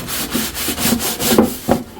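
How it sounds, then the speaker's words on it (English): Steady scrubbing of an old burnt metal tray, metal on metal, in rhythmic back-and-forth strokes with gritty rasping and brief squeaky tones, close and loud with no talking. "I'm not even scrubbing that hard. It might sound like it, but that's what metal on metal sounds like."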